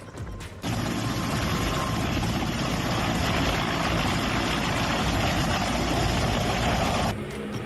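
Army helicopters and aircraft flying overhead, a steady loud engine and rotor roar that rises at the start and holds evenly for several seconds before cutting off near the end.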